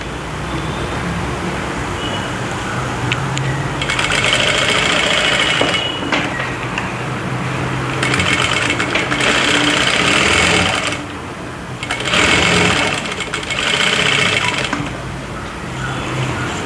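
A sewing machine stitching a round neckline runs loud and close in several bursts, each lasting a few seconds, with brief quieter pauses between runs and no talking.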